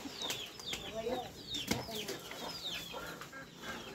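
Farm chickens clucking and squawking excitedly while being fed, several birds calling in quick overlapping bursts with a brief flap of wings, close by, over a faint background murmur.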